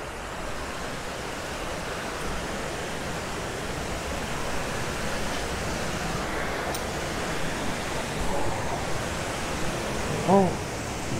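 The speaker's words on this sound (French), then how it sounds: "Oh là, ça y est, on arrive à la cascade." A jungle waterfall in Ecuador gives a steady, broadband rushing roar that stays constant throughout, with a brief louder splash-like bump near the end and no talking.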